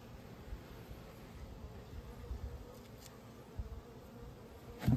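Honeybees buzz around backyard hives that have a jar of sugar water set on them, a low, steady, faint drone that holds throughout with a few slightly louder swells, and no voices.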